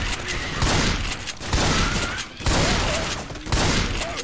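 Repeated bursts of gunfire from Left 4 Dead 2 during a zombie fight, coming in four dense volleys about a second apart, loud and close with no talk over them.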